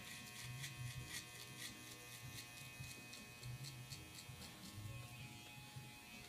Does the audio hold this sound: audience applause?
no